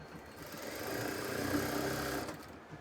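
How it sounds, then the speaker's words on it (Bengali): An electric sewing machine runs a steady stitch along a kameez neckline while a chain is attached, its motor whirring close and continuous for a few seconds before slowing to a stop. "দুই সুতা পরিমাণ ডাবিয়ে সেলাই করে নিচ্ছি"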